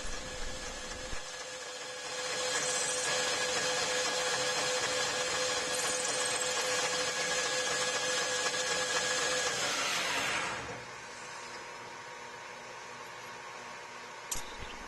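A metal lathe peck-drills a hole with a tailstock drill, producing a steady high whine and cutting hiss that swells for several seconds. The sound then drops back to the quieter motor hum, and a short click comes near the end.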